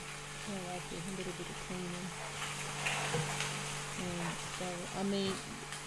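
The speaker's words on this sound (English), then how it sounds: "After I boiled it, I took it out, and then I sauteed the actual pasta." Pasta sautéing in a pan over a medium-high flame, a faint steady sizzle running beneath a person talking throughout.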